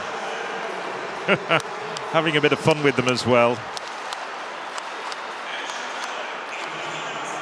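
A stadium crowd at the Berlin 2018 European Athletics Championships men's triple jump final claps along for a jumper, with rhythmic clapping that speeds up, then fades into a general murmur, while a commentator speaks over it.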